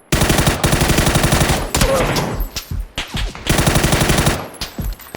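Rapid automatic gunfire bursts in PUBG, loud and close, firing in two long sustained volleys separated by a brief pause with scattered single shots and impacts.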